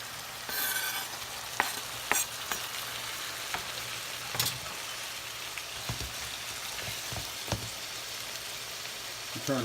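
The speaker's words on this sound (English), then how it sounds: "we could add the tomatoes and let that cook in a little." Shrimp and clams cooking with added tomatoes in a pan of white wine and Pernod sauce give off a steady sizzle, broken by several sharp clinks and scrapes of stirring, close and with no talking.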